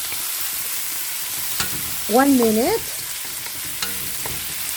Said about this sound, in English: So we will saute this until it's fragrant and all the spices are infused wonderfully.